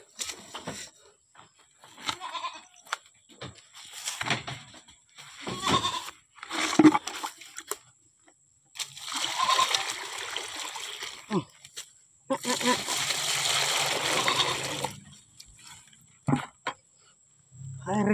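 Goats in a newly built pen crowd a water trough, their bleats and splashing, slurping drinking sounds coming in bursts, with a longer stretch of water splashing near the end and someone talking intermittently between.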